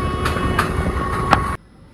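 The Tirupati Weekly Express, train 17621, rumbles steadily past on the Guntakal route with a few sharp metallic clanks, then the noise cuts off abruptly into near silence.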